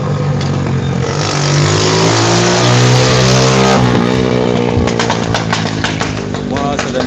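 A motorbike engine revs loudly and close by on a road, its pitch climbing and dipping in a long continuous drone.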